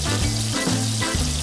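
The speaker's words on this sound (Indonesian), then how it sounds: "Kemudian kita goreng ke dalam minyak yang panas sambil diaduk-aduk ya guys." Battered fish frying in hot oil and being stirred, a dense, steady sizzle with some bubbling and soft stirring sounds underneath, close and continuous with no talking.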